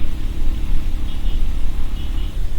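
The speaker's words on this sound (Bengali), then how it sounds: "বাইকের সাউন্ড শুনছেন কি অবস্থা" A group of motorbikes climbs a hill road toward Sajek Valley, a loud, close, continuous engine rumble with heavy low-end roar and no pauses.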